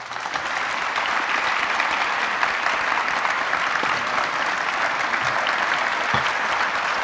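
Sustained audience applause at an awards ceremony for a distinguished achievement award, dense and steady clapping filling the whole stretch without pause.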